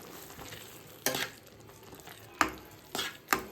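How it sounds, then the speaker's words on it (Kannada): Palak paneer masala with coriander powder and rock salt frying in oil, a soft steady sizzle broken by four sharp spoon scrapes against the pan. "ಇಷ್ಟು ಹಾಕಿ ಫುಲ್ ಆಯಿಲ್ ರಿಲೀಸ್ ಆಗೋವರೆಗೂ ಇದನ್ನು ಫ್ರೈ ಮಾಡ್ಕೊಳ್ಳೋಣ"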